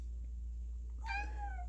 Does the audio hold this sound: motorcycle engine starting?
no